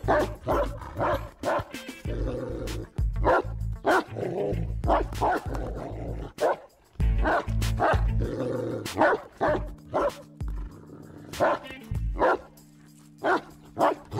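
A dog barks repeatedly in bursts near an apartment building, loud close woofs and yips broken by short pauses, with some whimpering toward the end and no clear talk.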